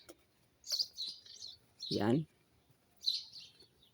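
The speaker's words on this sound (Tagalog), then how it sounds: "Maraming ibon dito." Small birds chirp in short high bursts, a few calls spaced apart, with a brief spoken word between them in a quiet setting.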